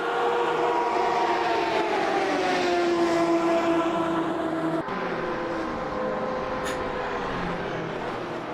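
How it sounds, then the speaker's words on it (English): Flat-six race car engine in Automobilista 2, a continuous loud rasping drone at Daytona with rising and falling revs and a sudden drop in pitch partway through, alone with no talk. "We're just reveling in some flat 6 goodness."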